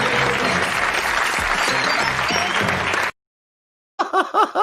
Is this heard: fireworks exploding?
no